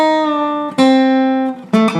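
A slow guitar bass fill, played on the 3rd and 4th strings: three clearly plucked, sustained low notes, close and alone.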